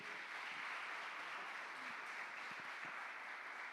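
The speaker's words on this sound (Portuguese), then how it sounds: "Aplauda o Senhor mais uma vez." Congregation applause during a church worship service: an even, fairly quiet wash of many hands clapping, steady for the whole stretch with no voices standing out.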